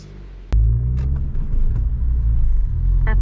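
A car engine revs sharply inside a parking garage, a sudden loud burst that settles into a deep, echoing rumble, dipping briefly before swelling again near the end.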